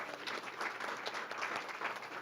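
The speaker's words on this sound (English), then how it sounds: "we'll give her a little round of applause, Sabrina Villamil." An audience at a city council meeting in Chino gives a round of applause for an award recipient, a continuous, even patter of clapping heard from a distance at low volume, with no talk over it.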